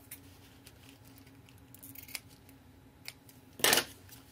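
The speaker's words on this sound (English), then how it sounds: "I'm going to cut this right here" Scissors make a few faint, quiet snips through paper for a handmade 6x6 mini album, ending in one louder, sharper cut near the close. No talk is heard.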